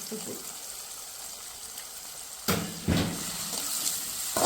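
Country chicken curry ingredients sautéing in a pan, with a steady low sizzle and short bursts of stirring scrapes in the second half, close and moderately loud.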